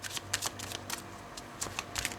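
Tarot cards being shuffled by hand in several quick riffling bursts with brief pauses between, close and fairly quiet, no talking.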